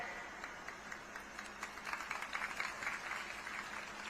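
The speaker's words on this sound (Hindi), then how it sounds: "आपने ताली बजाई" Audience applause at a political rally in Kharsia, Chhattisgarh: faint, distant clapping that swells briefly in the middle and then fades back into the room's murmur.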